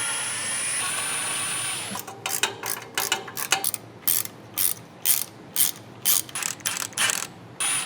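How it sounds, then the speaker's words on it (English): A ratchet loosens transmission pan bolts on a 2004 Chevy Silverado, a close series of short, sharp clicking bursts in an irregular rhythm after a brief stretch of steady hum, with no talking. "Now we're gonna loosen the bolts in the back, but not take them all the way out because we don't want the pan to just fall."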